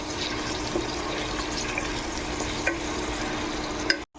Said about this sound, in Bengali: এখন তেলের মধ্যে আমি এগুলোকে খুব সুন্দর করে ভেজে নেব